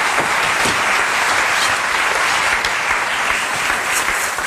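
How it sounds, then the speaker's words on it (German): Loud, dense studio audience applause on a German TV cooking show, a continuous roar of many hands clapping throughout with no speech on top. "das ist dein Applaus"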